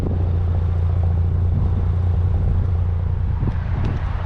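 A 2021 Audi S4's quad exhaust gives a steady, low idling rumble, close and constant with no talk.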